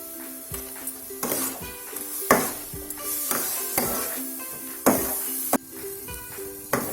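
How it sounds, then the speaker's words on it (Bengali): Shredded cabbage cooked with ghee and garam masala is stirred in a pan, with a spoon scraping and clanking against the metal in irregular strokes over a steady sizzle. Nobody speaks. "বাঁধাকপিটাকে একটু নেড়ে নিচ্ছি, নেড়ে নামিয়ে নেব"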